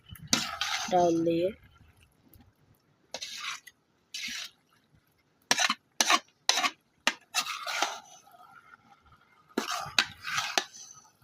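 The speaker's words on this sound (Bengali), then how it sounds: "এগুলো ভালোভাবে কষিয়ে নিব" Taro and fish head being stirred and sautéed in a pan, with repeated scraping and clinking of a utensil in short bursts, some near and sharp, separated by pauses, and a brief spoken phrase early on.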